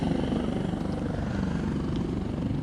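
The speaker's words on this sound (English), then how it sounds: "We've got the Great North Air Ambulance helicopter just landing right on the summit of Green Gable." An air ambulance helicopter landing on a mountain summit, its rotor thumping steadily and loudly nearby, a continuous low whirring drone with no voices.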